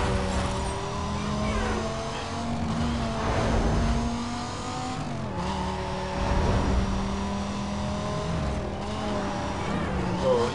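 A car in the racing game Need for Speed: Most Wanted (2005) driving fast, engine droning and revving with gear shifts and shifting pitch, tire noise beneath, and someone speaking over it.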